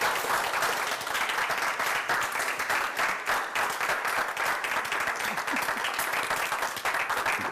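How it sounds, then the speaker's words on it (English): An audience claps steadily for an arriving guest at an event, dense and continuous applause filling the room at close range without a break. "Y'all can clap till she get here."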